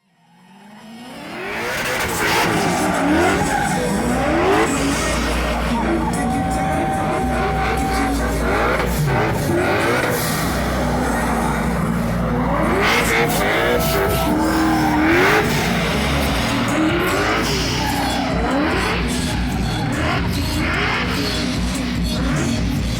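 A car drifts at the St. Louis Auto Show, its mid-range engine revving and surging continuously while tires squeal in wavering pitches, loud and close amid crowd noise.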